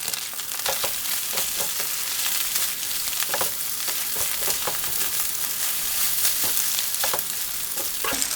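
Stir-fry noodles fry in a hot pan, a continuous loud sizzle with repeated crackling bursts as the food is stirred and tossed, close and steady throughout.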